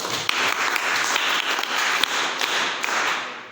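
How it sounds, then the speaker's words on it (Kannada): Applause from a classroom of students fills the space, a dense steady patter of many small hands that lasts a few seconds, close and moderately loud with no voices over it. "ಚಪ್ಪಾಳೆ ಹೊಡೆಯೋಣ ಎಲ್ಲರೂ."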